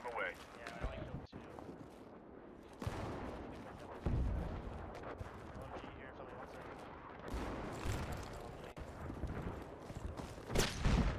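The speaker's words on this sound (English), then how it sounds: "I'm dropping an airstrike on them" Video game airstrike explosions strike a building, arriving as a series of heavy booming blasts and crackling impacts with bursts of gunfire. A voice talks over the action.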